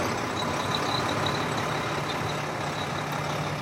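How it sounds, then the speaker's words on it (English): A truck rumbles close by in a steady low drone, with a faint high whine hovering above the engine noise throughout. "It's a fucking truck near me."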